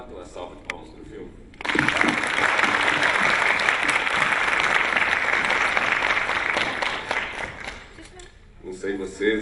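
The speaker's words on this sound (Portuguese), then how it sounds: "vamos bater uma salva de palmas pro filme" An audience at a film screening breaks into sustained, dense applause lasting about seven seconds before it tapers off, with talk heard before and after the clapping.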